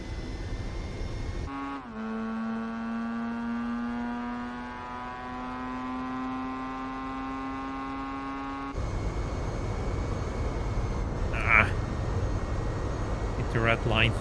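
Car engine in Gran Turismo 4 with a high, steady buzzing drone like a beehive, pitch climbing slowly as it revs, then giving way to rougher engine noise as a voice speaks.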